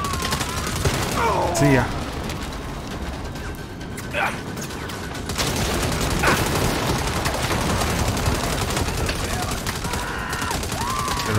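Continuous rapid gunfire in the Saints Row video game, dense rattling bursts with crashes and game effects throughout, a player briefly speaking over the din.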